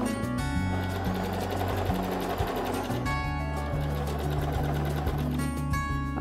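A sewing machine stitches the folded-back edge of an embroidered cloth in rapid, rhythmic bursts separated by short pauses, close and clear.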